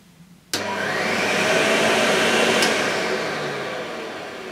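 A vintage Electrolux 560 electronic upright vacuum cleaner switches on abruptly after a quiet moment, then runs with a loud, steady whine and motor hum, a faint click partway through and a slight fade near the end.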